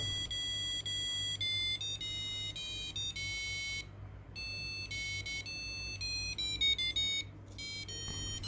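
Homemade DIY Arduino board driving a piezo buzzer through a melody sketch: shrill, electronic square-wave tones stepping through the tune in quick, clipped notes with short gaps, over a low steady hum.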